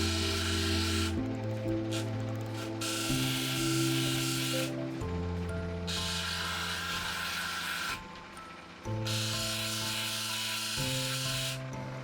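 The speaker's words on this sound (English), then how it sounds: "I jump back onto the 400 grit wheel to take those out" A 400 grit wheel polishing scratches out of a 20 carat crystal opal makes a steady humming whir with a hissing rasp that starts and stops in bursts as the stone is pressed on and lifted off.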